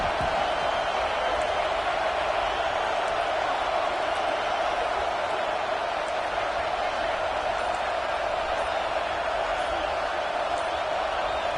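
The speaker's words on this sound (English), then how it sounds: "Third down play in the red zone, and this crowd is at fever pitch." At a Michigan football stadium, the crowd keeps up a dense, continuous roar on a third down in the red zone, loud and even throughout with no breaks.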